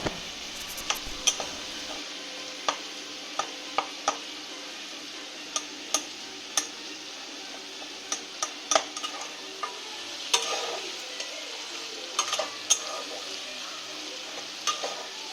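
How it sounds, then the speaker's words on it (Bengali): A spatula mashes eggplant into spinach in a pan, giving sparse sharp taps and scrapes against the pan over a low, quiet simmering hiss, close and without voices. "এবার আমি খুন্তি দিয়ে ভালো করে এগুলোকে বেগুনগুলোকে ম্যাশ করে নেব শাকের সঙ্গে"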